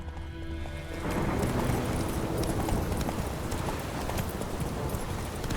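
Roach, the horse in The Witcher 3, with hooves clip-clopping at a steady walking rhythm under a dense game soundscape, close and moderately loud, the footfalls picking up after the first second.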